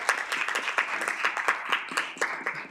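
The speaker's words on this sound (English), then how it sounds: "Let's give her a round of applause." Applause from a committee session audience, a dense steady patter of many hands clapping throughout, fairly close and moderately loud.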